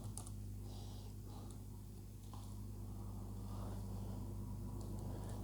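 Quiet keyboard typing while writing C++ code, soft scattered key clicks over a steady low hum, with no talking.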